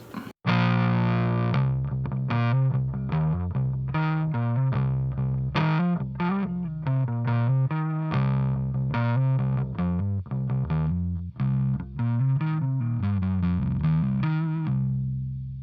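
Electric guitar plays a run of chords and single notes through a Green Carrot Pumpkin Pi pedal with sustain at its lowest setting, clean-ish and fairly loud, with short decays between the notes.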